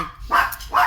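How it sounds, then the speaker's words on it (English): Dogs in a home bark twice in quick succession, two close, sharp woofs over a quiet background. "excuse the dogs"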